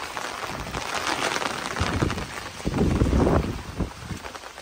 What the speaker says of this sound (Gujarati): જોઈ રહ્યા છો વરસાદ ચાલુ થઈ ગયો.